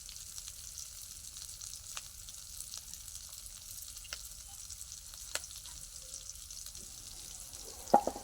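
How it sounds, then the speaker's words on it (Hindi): Onions frying in a pan over a low fire give a steady soft sizzle throughout, with a few faint clinks of stirring and a brief sharper scrape near the end. "अच्छी तरह से प्याज को भून दे रहे हैं।"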